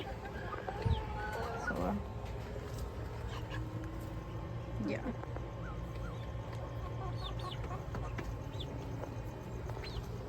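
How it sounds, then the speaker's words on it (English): Five or six backyard chickens kept with a duck cluck and call in their coop, with scattered close clucks over a steady low hum while someone speaks briefly. "Here's where we have our five, six chickens and a duck."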